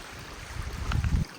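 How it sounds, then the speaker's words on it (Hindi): A steady, low rushing roar from a tall waterfall, heard from the top of the hill it pours down, above a cave. The rumble swells slightly toward the end, with no talking. "मैं उस पहाड़ी के ऊपर खड़ा हूँ, जिस पहाड़ी के नीचे बीच में गुफा है और ये झरना जाता है।"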